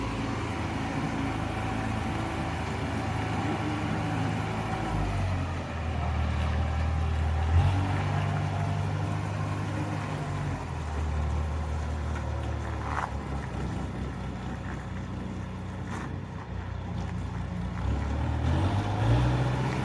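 A tractor works a silage pit, its engine droning steadily at a constant distance with slight rises in load and occasional clanks, no talk.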